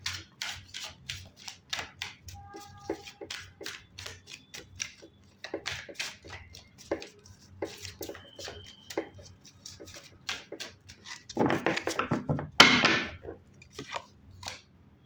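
Tarot cards handled and drawn from a deck during a reading: soft papery rubs and taps recur close by throughout, then a louder burst of brisk shuffling near the end.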